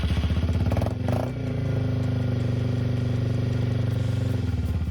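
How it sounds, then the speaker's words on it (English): The air-cooled 196 cc SOHC two-valve single-cylinder engine of a Yamaha TW200 motorcycle runs close by, a loud, steady, thumping idle with a brief dip in the middle. "Number 20, Yamaha TWW200 single cylinder."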